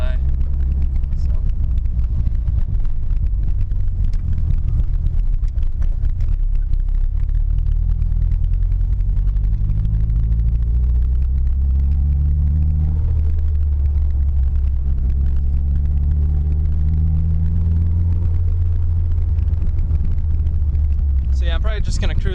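Nissan S13 with an SR20DET and eBay turbo, heard from inside as the engine drones and rises under boost, with heavy low rumble and wind noise beneath a voice talking throughout.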